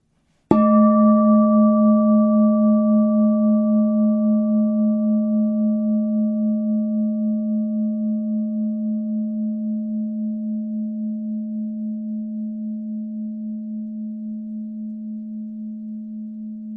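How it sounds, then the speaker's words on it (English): A Tibetan singing bowl is struck once and rings with a pure, steady hum that fades slowly over more than fifteen seconds, alone and close. "Hear me sound the Tibetan singing bowl, and as the sound of the bowl reverberates and slowly dies away"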